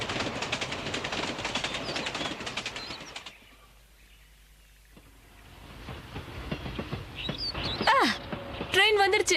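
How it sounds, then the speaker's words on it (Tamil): Cartoon train departing in a Hattori episode, a loud rumbling rush with clattering that fades to near silence mid-way, then returns with whistle-like squeals and chirps near the end, with dialogue over it. "இதோ ட்ரெயின் கிளம்பிடுச்சு"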